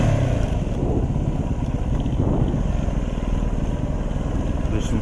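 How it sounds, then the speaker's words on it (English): A motorcycle engine drones steadily and loud while riding trails near Fairbanks, its low rumble continuous under heavy wind buffeting on the microphone, with no talking. "I thought I'd turn on that external mic so you could hear the motor."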